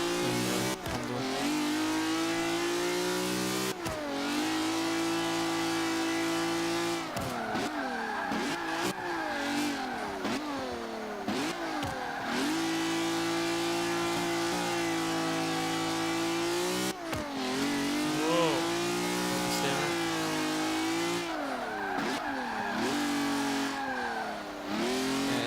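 1973 BMW 2002 Turbo in Forza 5, the turbocharged engine revving and wailing through repeated gear changes, with brief tire squeal, loud and continuous with no talk.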